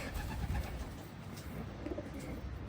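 Low, throaty coos from a male pigeon repeat steadily over a murmur of background noise, fairly close and moderately loud.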